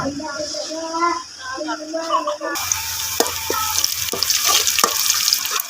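Onions fry in a pan with a dense, continuous sizzle that grows louder partway through, with light stirring clicks and a voice briefly heard early on.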